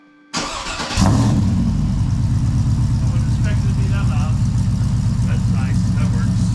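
A 2006 Chevrolet Trailblazer SS AWD V8 with aftermarket headers and stall converter cranks and catches with a sharp snap, then settles into a loud, steady, deep rumbling idle.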